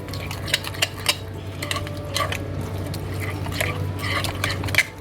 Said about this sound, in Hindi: इसको मैं अब करूँगी मिक्स अच्छे तरीके से